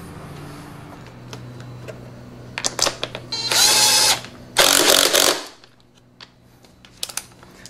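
A ratchet tightening a bolt on a Honda X motorcycle, with a few short clicks followed by two loud, close bursts of rapid ratcheting, then quiet.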